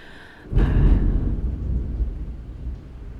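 Thunder during a storm: a sudden loud crack breaks into a deep rolling rumble that slowly fades, with rain hiss underneath and no talking.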